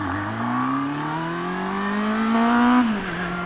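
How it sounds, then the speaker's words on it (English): Honda CB400 Super Four motorcycle engine revs up steadily, the pitch rising smoothly until a sharper, harder note takes over near the top as VTEC engages around 6,250 rpm, then the revs drop back, loud and close. "You can actually hear the V-Tec kicking in."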